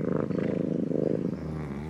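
Domestic cat purring while being stroked, a close, rhythmic low rumble pulsing with each breath, continuous and alone.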